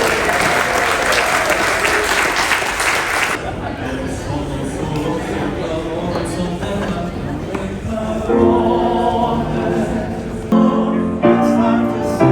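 Cruise ship guests applaud the captain at a farewell gathering aboard an Explora Journeys ship, loud sustained clapping that fades after a few seconds into crowd chatter, with music and voices underneath.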